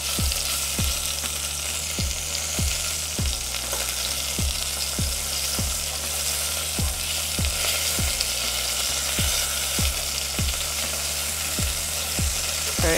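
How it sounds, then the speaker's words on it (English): Chicken searing in a hot pan, a loud steady sizzle throughout with regular low knocks as the pieces are stirred and moved about, and no talking. "you wanna just get like a light sear on each side"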